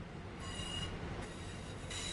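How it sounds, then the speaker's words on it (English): A train in the game Train Sim World 5 brakes toward a stop, with a continuous heavy rumble of rolling stock and thin squeals from the wheels, steady and alone throughout. "it's time to bring the train to a stop."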